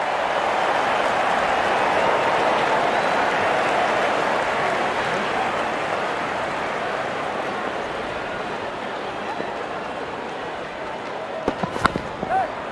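Broad, steady crowd applause in a Real Cricket video game stadium, swelling early and fading gradually, with a few sharp knocks near the end.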